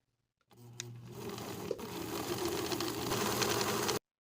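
A sewing machine zigzag-stitches in place over overlapped elastic ends, starting after a short silence and running as a steady rapid whirring drone at close range until it stops abruptly.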